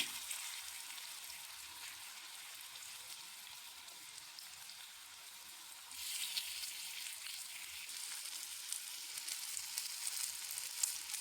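Cut pieces of ripe plantain fry in ghee with a steady, close crackling sizzle that grows louder and busier partway through.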